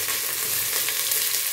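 Chickpeas frying in a pan as onions go in, a dense, even hiss of sizzling oil up close, steady throughout the short moment with no talking.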